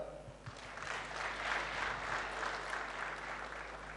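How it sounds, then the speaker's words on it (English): Audience applause at an inspirational talk in Mysuru, a steady wash of clapping that builds and holds at moderate level for several seconds, with faint voices beneath. "Can you please applause?"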